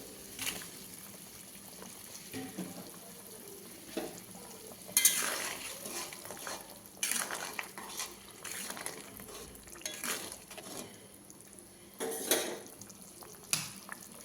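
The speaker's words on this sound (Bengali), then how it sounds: "ঝোলটা ফুটে গেছে, এবার মাছগুলো দিয়ে দেবো।" Fish pieces going into a boiling fish curry, bubbling and soft sizzling with stirring and occasional clinks of a spoon against the pot, fairly quiet and close, with no voices.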